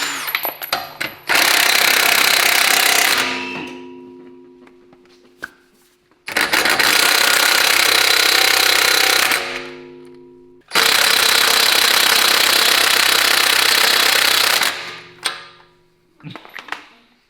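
Pneumatic impact tool loosening the wheel nuts on a wrecked Lamborghini Urus, three loud hammering bursts of a few seconds each, separated by quieter gaps with faint mechanical sounds.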